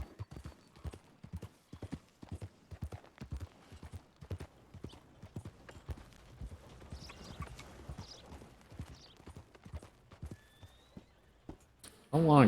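Steady clip-clop of horse hooves in a video game, a regular walking rhythm close and clear, with a voice talking over it and a short loud burst at the very end.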